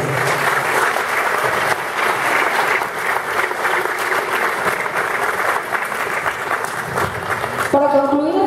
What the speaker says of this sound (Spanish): Y el mejor del aplauso es para ustedes.